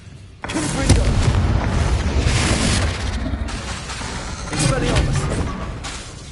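Confringo fire spell blast in Hogwarts Legacy: a sudden booming burst that rolls into a sustained rumbling roar, with game voices mixed in over the blast.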